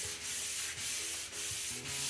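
Steady rhythmic rubbing of wet sandpaper on a sanding pad over a surface, four even back-and-forth strokes with brief pauses between them, close and fairly loud.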